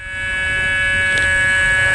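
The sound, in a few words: accelerator buzzer on an electric parking lot shuttle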